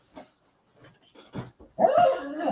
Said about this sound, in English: You got to get the dog in here.